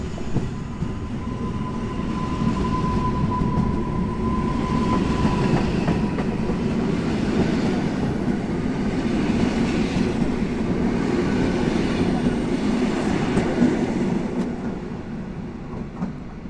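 Passenger train rolling through Warszawa Zachodnia station at night, a loud steady rumble and clatter of wheels lasting throughout, briefly joined by a thin rail squeal near the start before easing off at the end.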